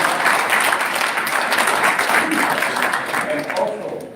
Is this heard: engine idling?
no